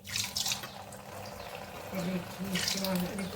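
Gulab jamun frying in hot oil over a low flame, a soft bubbling sizzle close by, with someone talking over it.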